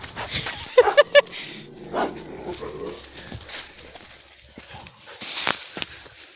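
A dog playing outdoors in an onion field gives a few quick, sharp yelps or barks early on, then rustles and scuffles around as people talk nearby.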